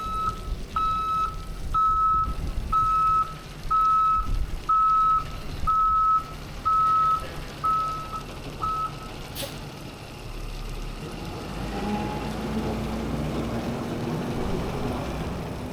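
A sag wagon truck reverses in the small Iowa town of Alexander during the RAGBRAI bike ride, its backup alarm beeping in a steady, evenly spaced series for about nine seconds before stopping, leaving engine rumble and road noise.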